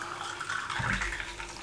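Water poured into a glass of mint lemonade over ice, a steady liquid fill that swells near the end, heard alone at close range.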